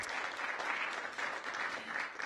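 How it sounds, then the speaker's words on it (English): A crowd applauds steadily at a mayoral swearing-in ceremony in Washington, DC, after a budget director takes the oath, dense clapping sustained evenly throughout at moderate level. "Give Matt a round of applause"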